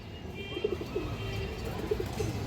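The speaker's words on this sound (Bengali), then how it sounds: "একটা মাদি কবুতর দেখেন, আর চোখটা দেখেন দর্শক, অনেক সুন্দর একটা মাদি কবুতর" A female pigeon coos in short soft bursts, several low calls spaced irregularly over a constant background hum, fairly close, with no talking.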